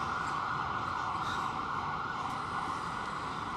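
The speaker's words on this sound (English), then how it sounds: "I went a little deaf hearing that Hatzola ambulance just now." Hatzola ambulance siren on a Manhattan street, a loud steady wail sustained throughout over dense city traffic noise, close and overwhelming.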